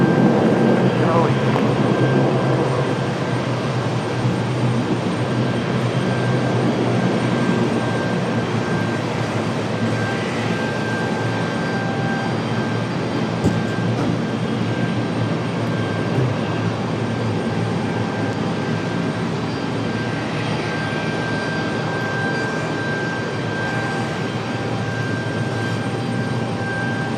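An ATR turboprop airliner at Raleigh-Durham International Airport gives a loud, steady engine drone with a sustained tone for the whole stretch, and faint radio voices run underneath.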